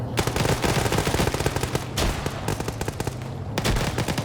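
Rapid bursts of gunfire fill a large 150-plus player PvP match in an OFCRA game, with dense overlapping automatic shots close and loud, continuing almost without pause.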